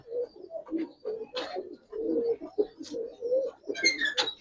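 Pigeons coo repeatedly at a pigeon sale, a run of soft, throaty burbling calls in quick succession with a few brighter chirps near the end, close and fairly loud.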